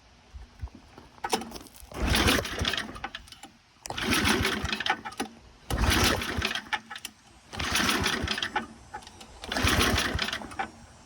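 A Toro snowblower engine with choke and primer on cranks in five long bursts separated by short pauses, loud and close, never catching or starting.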